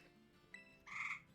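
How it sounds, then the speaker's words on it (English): Pet tree frogs kept indoors give a short faint chirp, then one louder croaking call near the end, in a quiet room with low background hum. "I've got some tree frogs that like being loud."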